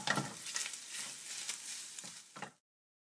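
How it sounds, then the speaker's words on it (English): Scrambled eggs for fried rice frying in a pan, a brief close sizzle with a few soft scrapes and spatters that cuts off abruptly. "my lovely assistant is going to crack an egg and make scrambled eggs"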